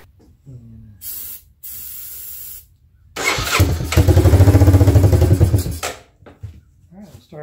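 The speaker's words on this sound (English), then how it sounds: "I'll spray a little starting fluid up in here." Starting fluid hisses from an aerosol can in short bursts into a Honda Fourtrax ATV engine, followed by a louder sustained spray or cranking burst lasting a few seconds. Faint voices are heard.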